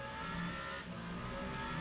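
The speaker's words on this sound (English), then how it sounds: "Look, can you hear how much Jérôme plays with the gears to try and get the car?" A race car in the Le Mans Ultimate sim racing game on the COTA National circuit howls steadily, with its engine note dipping briefly as it shifts gears, under continuous high-pitched whine.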